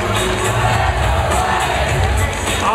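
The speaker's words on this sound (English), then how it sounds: "I'm hearing the Red Lions from the crowd." A dense arena crowd cheers and shouts continuously at an FRC Logo Motion robotics elimination match, loud and close with overlapping voices and whoops throughout.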